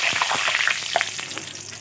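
Cumin seeds hiss and crackle in hot oil left over from frying fish. The sizzle is loud and close, steady throughout, with sharp pops scattered across it.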